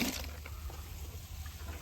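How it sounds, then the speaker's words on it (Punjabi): Water pours into a pesticide sprayer tank on a farm, a faint, brief splashing gurgle that is audible only for a moment. "ਇਹ ਪਾਣੀ ਪਾ ਰਿਹਾ"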